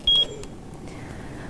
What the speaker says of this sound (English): This is a medium priority alarm